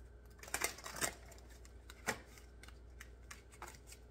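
Tarot cards slide and snap as they are drawn from a deck in a few quiet, sharp bursts with pauses between, close but faint.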